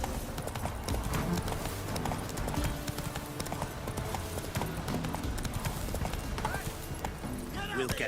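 Horses' hooves clip-clop in steady rhythm in The Witcher 3: Wild Hunt, with an occasional whinny, moderately close and continuous throughout while a voice talks over them.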